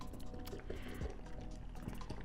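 Cold water pours steadily into a powdered shake mix in a container, a continuous close splashing hiss with a few faint knocks.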